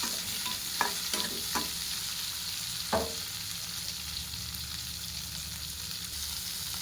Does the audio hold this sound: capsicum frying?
yes